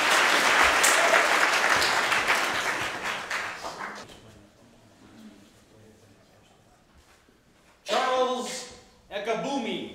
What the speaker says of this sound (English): two hands clapping